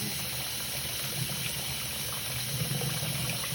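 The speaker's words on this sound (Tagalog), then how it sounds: "Banlawan ng mabuti yung straw." Tap water running steadily as a baby bottle straw is rinsed inside and out, a continuous close splashing gush without pauses.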